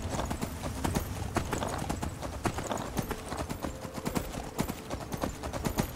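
Horse hooves clip-clop steadily on the ground in the Skyrim video game, a quick, regular rhythm of crisp hoof strikes running throughout at close range over a dense bed of game ambience.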